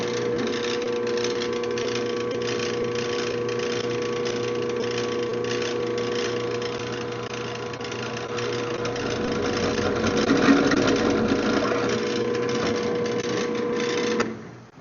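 A modified Harbor Freight drill press at about 310 RPM drives a 1/2-inch pilot-point bit through 2x2 by 3/16 square steel tube in a hobby shop, giving a steady close motor whine and hum with a rougher cutting surge late on before it stops.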